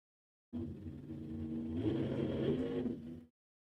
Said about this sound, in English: Hear the throttle stop engage, come back on.